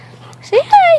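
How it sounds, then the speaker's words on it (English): A dog gives a short whimper followed by a longer high whine, close by, right after a person speaks briefly. "That's my dog."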